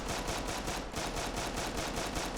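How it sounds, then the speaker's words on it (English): M39 rifle gunfire in the video game Rust: a steady, rapid stream of shots keeps a fast, even rhythm for the whole stretch, dense and continuous with no voices over it. "most people are going to be trying to control their recoil"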